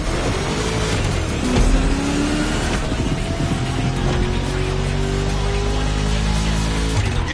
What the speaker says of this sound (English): You're driving my #1 car, the star of my collection, the 1969 Mustang Boss 429